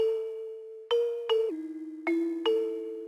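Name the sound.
bell sound with EQ, music production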